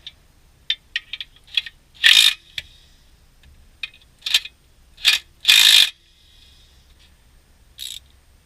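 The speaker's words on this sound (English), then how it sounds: "I'm gonna go over it again with this, finish it off with a ratchet" A ratchet tightening flywheel and clutch bolts on a 2013 Subaru, with short bursts of clicking pawl sounds and metallic rattles scattered across the clip, close and sharp with quiet gaps between.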